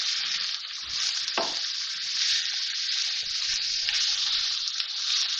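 Carrot, onion and green chilli frying in a pan make a loud, constant hiss close by, with occasional stirring scrapes and knocks against the pan.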